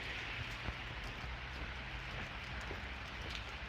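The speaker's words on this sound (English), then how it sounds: "Okay, it is raining a little." Light rain falling during a thunderstorm in Pittsburg, Kansas, a steady close patter of drops on surfaces with a low background hum, continuous and without talk.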